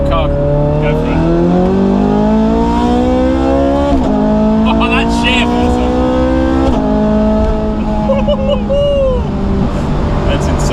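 A Ferrari 430 Scuderia accelerates hard nearby, its engine note climbing steeply and dropping at each upshift, with several rising sweeps across the pass. People exclaim over the roar.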